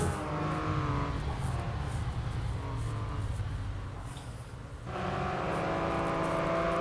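A Porsche Boxster GTS with a six-cylinder engine revving toward 7000 rpm in the racing game Real Racing 3, a sustained, loud engine drone with shifting pitch, briefly dipping before surging again.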